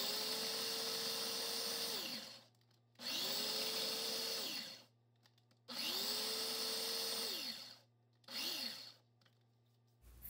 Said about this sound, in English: Put the other 19 Oreos in the food processor and repeat the crushing process.